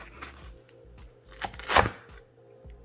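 Knife slicing through crispy air-fried French bread pizza from a Ninja Foodi grill, a few close crunching and tearing cracks with one louder crunch near the end.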